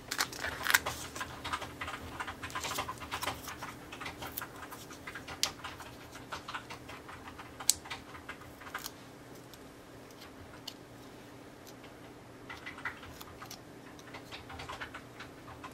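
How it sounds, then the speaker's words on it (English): Faint, quick clicking of keys being typed in bursts, with a soft steady hum in the background. "You could hear that. That's Jen typing"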